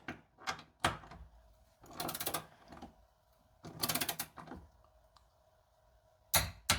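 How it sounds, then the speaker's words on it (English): Torque wrench tightening Iron Rock Off Road 3.5-inch lift kit bolts on a Jeep to 50 foot-pounds, giving close, sharp mechanical clicks and ratcheting bursts spaced between quieter gaps. "we're torquing these down to 50 foot-pounds"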